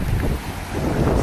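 Steady wind rushing by a hot river in open country, a constant broadband whoosh buffeting the microphone with slight swells and no voices.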